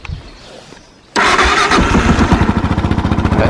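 A Yamaha YZ 450 dirt bike is kickstarted, a faint rustle giving way to the engine abruptly catching and running loud and close with a rapid, throbbing idle pulse.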